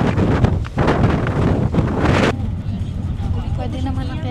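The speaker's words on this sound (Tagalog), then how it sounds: "It's me against the wind." Strong wind on a hilltop viewing deck in Bohol, Philippines buffets the microphone in a steady, heavy roar that stays loud throughout and is briefly interrupted by rumbling gusts.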